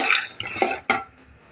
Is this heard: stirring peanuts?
yes